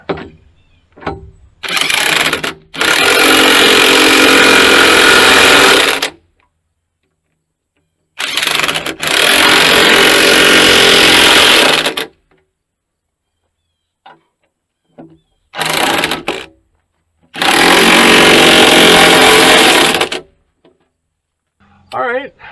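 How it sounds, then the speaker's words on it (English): An impact wrench rattles down bolts on a motor grader moldboard that is being shortened, in three loud, sustained bursts with silent gaps between them. "get the rattle wrench and rattle those down"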